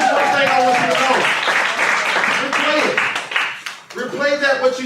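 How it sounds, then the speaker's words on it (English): Audience applause at a motivational talk, loud clapping through most of the stretch with voices and cheering over it, fading near the end before talk and clapping pick up again. "Now give yourself a round of applause."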